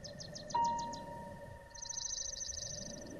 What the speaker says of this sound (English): There's a lot of little songbird sounds that come together at once to form a really beautiful listening experience while you're out on your adventure.